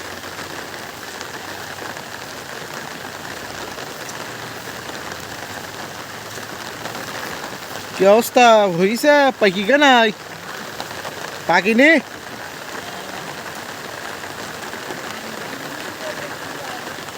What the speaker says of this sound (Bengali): এবছর যে এত বৃষ্টি, আল্লাহ রে আল্লাহ, প্রচুর বৃষ্টি।